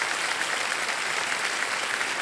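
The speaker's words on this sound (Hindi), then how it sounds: "जोरदार तालियां बज जाए श्यामा जी के लिए" A studio audience on a quiz show applauds with dense, steady clapping that holds at an even level throughout, with no voices over it.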